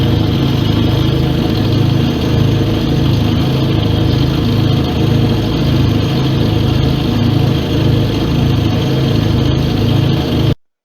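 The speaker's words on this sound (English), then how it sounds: "So this is kind of a video here of my fan gun that I'm testing out." A homemade snowmaking fan gun running during a test: a loud, steady, close mechanical drone with a pulsing low hum that continues unbroken for about ten seconds, then cuts off.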